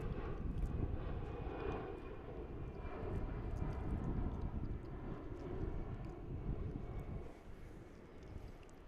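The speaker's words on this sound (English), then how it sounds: "There we can see our other Dreamliner. This one is coming in from Seoul, South Korea on flight 280 heavy." Boeing Dreamliner jet arriving at DFW International Airport, a steady, sustained engine roar with a rumbling low end and faint whine, heard from a distance with some wind buffeting the microphone.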